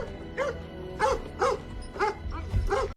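A dog in a film scene barks in a steady series of about six loud, close yaps spaced roughly half a second apart, with low rumbling background underneath.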